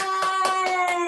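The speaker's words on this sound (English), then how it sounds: "give a big round of applause for Mr. Bart" A few children's hand claps for a storytime reader, about five sharp separate claps over a steady tonal background, fairly faint.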